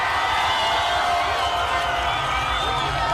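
A market crowd in Kiminini, Trans Nzoia claps and cheers for politician Edwin Sifuna, a dense, steady wash of applause and voices filling the whole moment.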